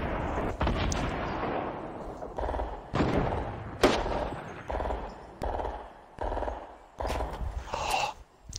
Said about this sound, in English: They have grenade launchers